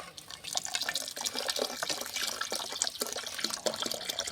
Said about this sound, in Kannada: ಇನ್ನೂ ಸ್ವಲ್ಪ ನೀರು ಹಾಕೊಂಡು